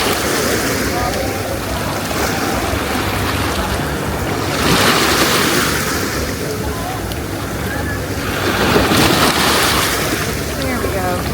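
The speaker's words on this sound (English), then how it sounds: "Libyan Sea." Surf of the Libyan Sea rolling onto Matala Beach in Crete, with two swelling wave washes rising over a constant roar of water and heavy wind buffeting the microphone.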